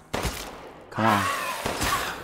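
Gunshots in the survival horror game Resident Evil Village, with a few sharp, separate shots fired close and loud with a short pause between them, and no talking over them.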